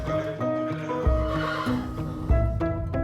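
A horse neighs loudly and close, with hooves clip-clopping in a steady rhythm beneath the whinny, in a racehorse setting.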